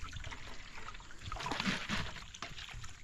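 Water trickles and splashes steadily while food is rinsed and washed clean by hand in a rural Lao setting, a continuous close wet dribble with small splashes throughout.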